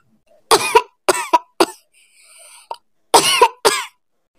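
A cartoon child's coughing fits, with close, loud bursts of coughs in clusters separated by brief pauses and a faint squeaky wheeze between them, with no talking.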